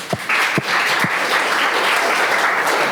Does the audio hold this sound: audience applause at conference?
yes